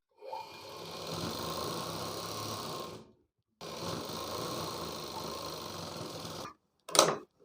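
A sewing machine stitches blouse fabric in two sustained runs of about three seconds each, separated by a short pause, followed by a brief sharp clatter near the end.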